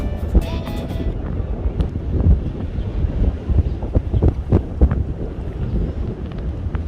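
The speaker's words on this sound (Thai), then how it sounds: "ตอนนี้ก็ให้ชมบรรยากาศกันท่ามกลางเสียงลมธรรมชาติไปก่อนสักครู่นึงนะคะ" Natural wind blowing across a red bridge over the sea, a steady rough gusting rush with low rumble, continuous throughout and unaccompanied by talk.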